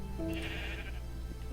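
Sheep bleat in Minecraft, a single short game-style bleat standing alone over a faint steady background.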